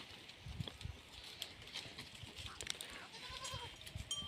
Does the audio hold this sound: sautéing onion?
no